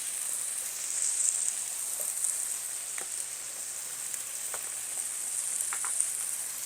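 Cut potatoes spread out on a hot griddle give a steady, even sizzle with a few faint scrapes and ticks scattered through it, and no voices.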